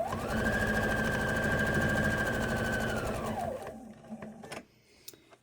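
Sewing machine stitching while quilting a placemat, a steady fast close mechanical whir that slows and stops, followed by a few small clicks.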